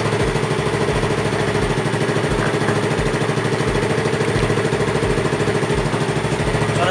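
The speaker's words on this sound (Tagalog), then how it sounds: "Kung mapapansin nyo, masyadong mataas yung idle natin." A Yamaha Mio scooter's carbureted engine idles too high during carburetor tuning. It gives a steady, loud, close putter with an even pulsing rhythm throughout and no pauses.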